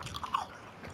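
Crunchy potato chips being chewed close to the mic in a short burst of crisp bites, quiet and alone with no talk.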